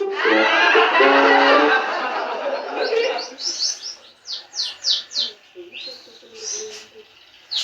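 Melodic magpie robin song with varied whistles and rapid chirps, clear and close, following a burst of people talking at the start.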